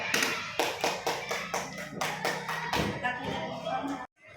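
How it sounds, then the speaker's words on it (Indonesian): Classroom clapping in an elementary school, a group of pupils clapping in about eight rhythmic bursts, fairly loud and close, ending abruptly. "Berikan tepuk tangan dulu untuk kelompok 3."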